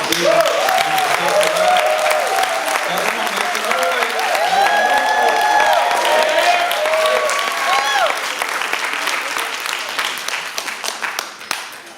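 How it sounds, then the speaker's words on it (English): A loud, sustained burst of audience applause and cheering at a Kwanzaa celebration after a candle lighting ceremony fills the whole stretch, dense clapping with voices shouting over it, tapering slightly near the end. "Come on, y'all strong round of applause."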